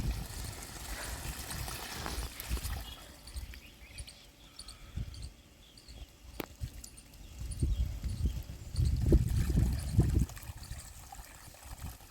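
Water runs steadily from a pipe on a farm, a continuous splashing flow that swells louder toward the end, with faint outdoor chirping in the background.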